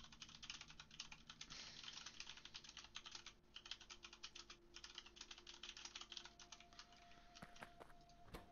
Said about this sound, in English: Sorry about the typing, guys.